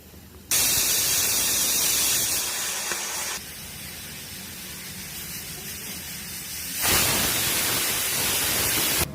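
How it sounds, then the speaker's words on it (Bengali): A pressure cooker cooking rice vents steam in loud, sustained hissing bursts, one roughly three seconds long and another that cuts in later, over a lower steady rush, with no one talking. "এখন সিটি পড়ে যাবে।"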